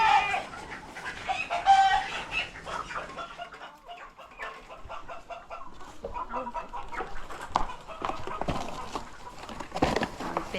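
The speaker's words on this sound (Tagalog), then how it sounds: "Hinuhuli na yung kukunin nating manok" Chickens, including big-combed roosters, cluck and squawk excitedly while being caught on a backyard farm, with busy flapping and scuffling noise throughout and occasional louder agitated calls.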